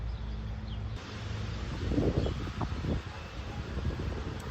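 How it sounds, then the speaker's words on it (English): Steady wind blowing outdoors in a garden during seed planting, a broad rushing noise with gusts and buffeting against the microphone, continuous throughout. "It's so windy"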